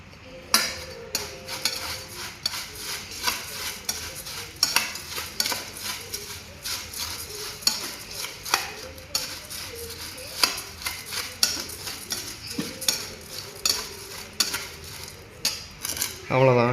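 Puffed rice being mixed with chilli powder in a metal bowl for spicy kara pori, a busy rustle and scrape of a spoon with frequent clinks against the metal, steady and close, with no talking.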